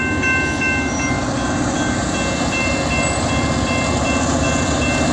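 A steady, droning CSX electric locomotive engine runs continuously with a broad rumble and faint high whine, loud and close throughout.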